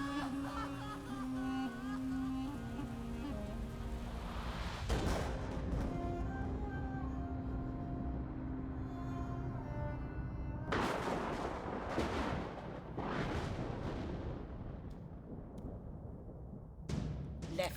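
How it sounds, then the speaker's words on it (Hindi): Gunfire in an action movie scene, several sharp bursts of shots cracking out in clusters over a background music bed, loud and close, with no talking. "मार दी सारी गोलियां उसकी छाती में।"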